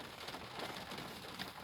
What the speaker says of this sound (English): It started raining harder.